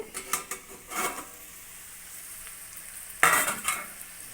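Potato poriyal stirred in a frying pan, with close scraping spatula strokes and a soft sizzle, in a few bursts separated by quieter frying, no voices.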